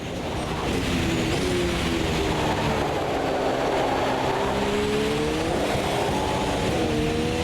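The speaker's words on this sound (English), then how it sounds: "see that you can go on the throttle and get a bit of wheel spin, but not a lot" A race car in the Automobilista 2 sim racing game drives on a rain-soaked track with wet tires, its engine note climbing and falling under throttle with a bit of wheel spin, loud and continuous throughout.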